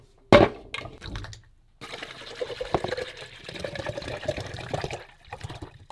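Distilled water is poured into the water tank of an Eight Sleep Pod Pro cooling mattress topper. A sharp clunk of the container comes first, then a few seconds of splashing, gurgling pouring that slowly fades.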